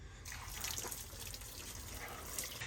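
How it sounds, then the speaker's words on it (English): Shower water runs in a steady, soft hiss with light splashing and dripping, fairly faint and continuous throughout. "Shower time, buddy."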